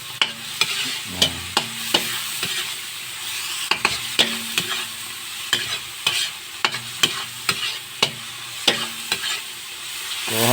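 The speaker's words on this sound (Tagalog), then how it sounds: "So habang ginigisa natin ito," Chopsuey vegetables sautéing in a pan, with a steady sizzle under repeated sharp scrapes and clacks of a utensil stirring at an irregular rhythm, close up and without talk.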